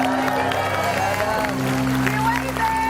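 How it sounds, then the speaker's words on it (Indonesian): Studio audience applause on an Indonesian TV comedy show: a continuous wash of clapping and crowd noise, steady and fairly loud, mixed with background music and voices. "Tepuk tangan."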